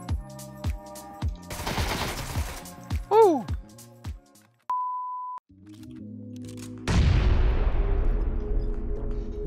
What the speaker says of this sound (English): He's trying to shoot me!